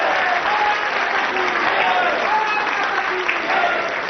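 A studio audience clapping in a TV show, dense steady applause that stays loud and even from start to finish.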